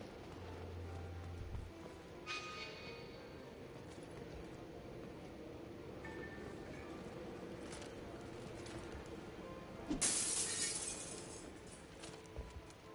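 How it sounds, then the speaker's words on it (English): Glass shatters in a sharp, bright burst within a Mass Effect 2 game scene, breaking through a steady bed of ambient game noise and low music. "Never mind the sounds of the broken glass."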